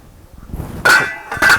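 A metal lid set back onto a cooking pot gives two sharp clanks about half a second apart, loud and close, after some faint shuffling.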